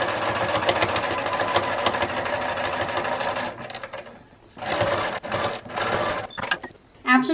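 A sewing machine runs a continuous fast stitch along an iPad pouch liner seam, then stops and restarts in shorter bursts, close and clear, with a voice talking at the end.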